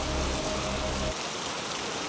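Heavy rain pours in a jungle, a dense even hiss of falling water heard at close range with no voices over it.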